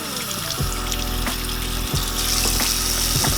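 Water runs steadily into a coolant reservoir being rinsed clean, a loud close gush with gurgling sloshes as the tank fills and swirls.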